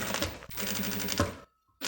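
Domestic sewing machine stitching a zipper onto a cosmetic bag, a fast steady mechanical chatter close up, pausing briefly, running on, then stopping for a quiet gap before restarting.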